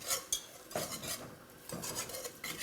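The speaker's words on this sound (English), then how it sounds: "Now that we whisked in the half and half" A whisk clinks and scrapes against a pot as half and half is worked into a flour and butter roux for South Carolina she crab soup, a quick rhythmic metallic rattling with brief pauses, close and steady.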